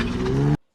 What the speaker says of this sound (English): speeds off, spinning his wheels